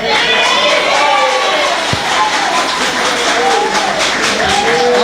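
Audience in a council chamber cheering and shouting, a loud dense crowd roar with rising whoops and a sharp knock, sustained for the whole moment.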